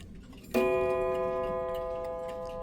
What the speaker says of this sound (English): this is my Kraftbierens German box clock. It runs for about 8 days on a full winding, and it sounds like this.